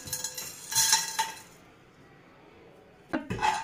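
Chicken haleem ingredients with ghee are stirred in a pressure cooker on a stove, making two bursts of clinking, scraping metal-on-metal strokes separated by a quiet pause, close and fairly soft.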